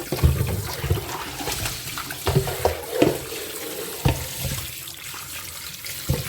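Catfish being washed by hand under a running tap in a sink, a steady splashing stream with irregular sloshes and knocks as the fish is rubbed clean, close and moderately loud.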